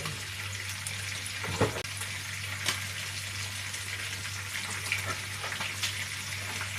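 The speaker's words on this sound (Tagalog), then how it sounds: "Antayin lang natin maprito ang ating piniprito" Pompano fish frying in a pan, a steady close sizzle and crackle with a low constant hum underneath and a few small clinks.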